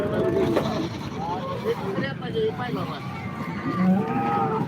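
Several cows moo at a busy cattle market, the calls overlapping at moderate distance amid crowd chatter and background bustle, with vehicle noise faintly present.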